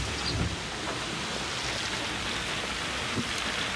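Steady heavy rain hissing on a surface, constant and enveloping, with no voices.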